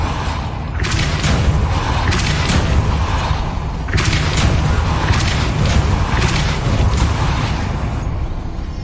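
Spell-casting in the Hogwarts Legacy video game, with a Depulso force push landing as repeated loud booming thuds and whooshing bursts over a dense, rumbling magical soundscape, no talking.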